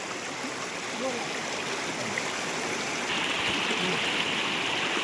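Steady broadband rush of water flowing across a flooded village road, continuous and fairly loud throughout, with no clear footsteps or voices standing out above the flow.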